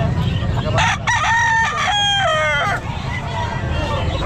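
A rooster crows once at a busy pet market, a long rising then falling call lasting about two seconds, loud and fairly close, over a constant din of other fowl and crowd noise.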